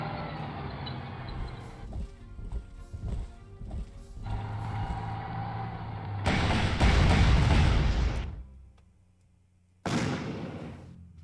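Artillery firing in the wargame Panzer Corps: a dense, layered stretch of game sound builds to a loud, broad boom-like blast near the middle, then drops to near silence before another burst.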